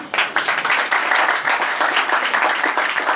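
An audience at a New York press conference for a welterweight boxing match applauds the fighters. Loud, continuous clapping from many hands fills the whole stretch, dense and close with no pauses.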